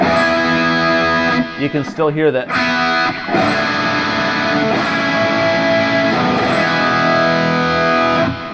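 Heavily distorted electric guitar through a Friedman BE-style amp patch strums big, sustained open chords of an intro, loud and saturated, with a brief spoken remark near the start.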